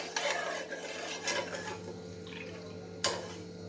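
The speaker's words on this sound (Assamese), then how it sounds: "অকণমান লৰাই থাকিলে ভাল, চেনিখিনিও ভালকৈ গলি যায়।" Mango pudding mixture with sugar being stirred in a pot, repeated scraping strokes of a spoon against the pan, close and moderately loud, with a sharper clink near the end.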